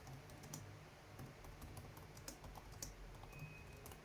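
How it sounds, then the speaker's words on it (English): Quiet, rapid clicking of a computer keyboard being typed on, irregular keystrokes close but faint, with no talk. "I will type it down here."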